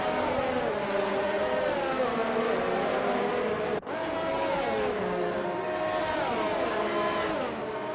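Race cars in a racing video game drive after a safety car restart, their engines droning loud and steady and rising and falling in pitch as they rev, with one brief cut in the middle.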